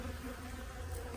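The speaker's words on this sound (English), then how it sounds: "These bees are pretty feisty out here." Honey bees swarm around an opened hive on a farm, producing a dense, steady, close buzzing hum that continues unbroken through the short moment.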